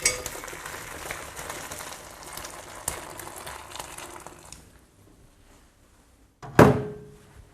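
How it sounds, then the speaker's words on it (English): Homemade vegetable stock being strained into a clear bowl, a splashy pouring and trickling sound that fades into near silence, then one sharp clunk near the end. "So I'll strain it just into a clear bowl so you get an idea of what it looks like."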